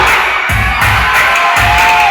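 A large church congregation cheers and shouts together at an evening event, a loud, continuous roar of whoops and yells filling the whole stretch.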